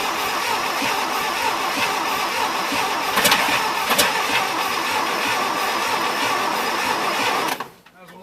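A 1971 International Harvester Blue Bird bus engine, missing two spark plugs, cranks steadily with a rhythmic starter churn for several seconds, briefly catching with a couple of sharp pops before cutting off abruptly.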